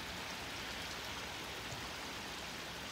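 A heavy thunderstorm downpour pours onto a flooded rice paddy during rice planting, making a dense, steady hiss that stays constant for the whole stretch, with no voices and no breaks in the rush of water.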